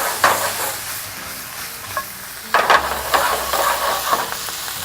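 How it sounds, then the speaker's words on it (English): Fajita vegetables sizzle and steam in a hot pan after a splash of water, a steady loud hiss with bursts of crackling and stirring scrapes, no talking. "All you have to do is just add a little bit of water. And it's naturally going to steam those vegetables for you"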